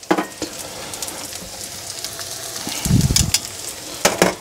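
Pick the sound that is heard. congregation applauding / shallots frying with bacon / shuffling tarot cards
shallots frying with bacon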